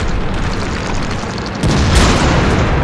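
A tank gun fires in a tank video game, a loud heavy boom that lands over a dense rumbling battle ambience partway through and raises the level for the rest of the stretch.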